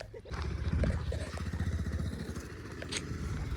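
A motorcycle passes close by with a rhythmic, pulsing engine putter that stays fairly steady throughout, with a few light clatters on top.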